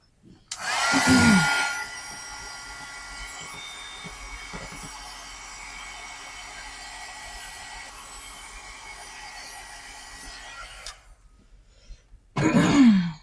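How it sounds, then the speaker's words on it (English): Heat gun blowing hot air over water-soluble graphite in a sketchbook, a steady whooshing roar lasting about ten seconds with brief louder bursts at the start and end. "I'm going to dry this. I'm going to hit it with a heat gun."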